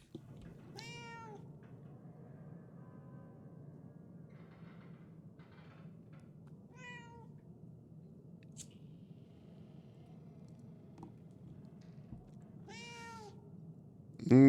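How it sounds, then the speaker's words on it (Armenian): A cat meowing in the video game Murdered: Soul Suspect: three distinct, fairly close meows spaced across the stretch over a low, steady ambient hum, with a soft thump near the end and no talking. "ինչ ես մլավում, ինչ պետք է անեմ"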